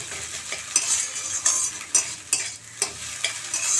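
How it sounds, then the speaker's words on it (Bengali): An egg fries in oil in a pan, a bright steady sizzle broken by several sharp scraping stirs of a utensil against the metal, with no talking. "আমার ডিম ভাজা হয়ে গেছে"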